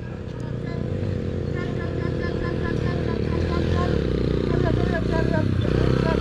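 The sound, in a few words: motorcycle revving while being pushed up an off-road climb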